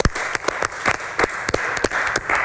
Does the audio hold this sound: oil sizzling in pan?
no